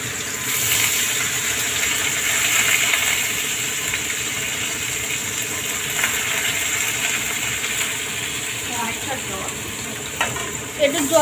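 Dal with bay leaf sizzling and frying in a pan, a steady broad hiss running throughout, with a few clinks and stirring sounds near the end.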